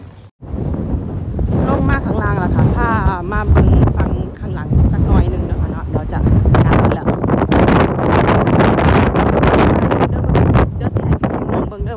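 Strong wind buffets the microphone at the top of a seaside tower on the Danish coast, a loud, steady rushing roar throughout, heavily mixed with someone talking.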